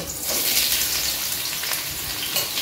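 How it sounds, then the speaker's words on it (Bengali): Sliced onions for a mutton dish frying in hot oil, a loud, close, steady crackling sizzle with scattered pops throughout, and no talking. "মাংসের পেঁয়াজটা এবার আমি ছেড়ে দেবো তেলে"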